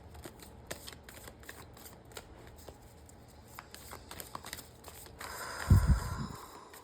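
Tarot cards being shuffled close up, a run of soft riffling flicks and taps building to a fuller, louder shuffle near the end, with no talking.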